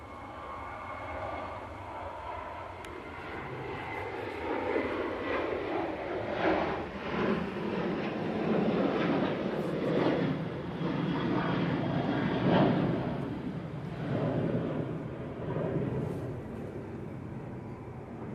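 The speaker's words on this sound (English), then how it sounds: "KLM, now on the roll" KLM airliner on its takeoff roll, a broad rumbling jet roar that swells and stays strong and fairly near, with no talk over it.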